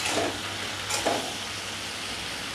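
Okra frying in hot oil with salt and turmeric sizzles steadily in a pan, with a couple of brief stirring scrapes in the first second.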